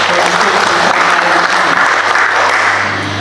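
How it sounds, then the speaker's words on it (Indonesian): A crowd claps loudly and continuously at a district installation ceremony for environmental health officials in Alor, a dense, sustained roar of applause with a low hum underneath. "Luar biasa, kita tepuk tangan dulu."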